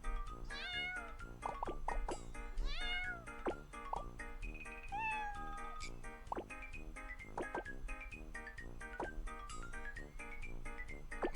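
Cartoon cat meows from the Block Cat Jam mobile puzzle game, repeated short meows over looping background music with plops and drip-like blips, fairly quiet and busy.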